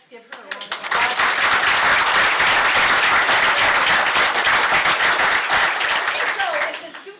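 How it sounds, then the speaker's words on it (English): An audience at a school board meeting breaks into sustained applause, building within a second and holding loud and steady for several seconds before tapering off at the end. "So let's give her a round of applause."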